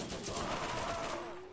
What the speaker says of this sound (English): All we need to do is throw our turret down, and this is pretty much going to do everything for us.